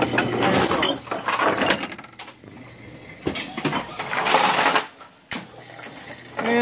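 A homemade automatic bowling lane pin machine moves pins along a cross conveyor with paddles, giving irregular mechanical rattling, clunks and clacks of pins knocking together, with a few sharp knocks and brief quieter gaps between bursts.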